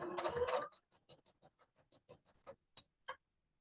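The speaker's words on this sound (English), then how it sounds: "I'm sewing right in that space" A sewing machine stitching across a folded tote bag strap, a slow, even run of soft mechanical ticks after a louder opening rattle, close and quiet.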